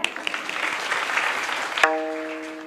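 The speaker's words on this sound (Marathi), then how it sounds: "दोघांसाठी जोरदार टाळ्या." Audience applause at a devotional gathering rings out as a dense, steady wash of clapping, then cuts off abruptly and gives way to a lingering sustained musical tone.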